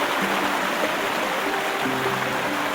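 A stream flows steadily beside a footbridge on a Lake District walk near Crummock Water, a continuous broadband wash of water close by, with faint tonal hums running beneath it.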